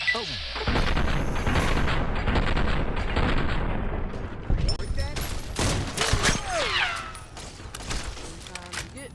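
Pistol gunfire from a heavily modded Fallout: New Vegas, heard as a dense volley of loud, sharp shots and booms with game ambience, fading toward the end as other effects take over.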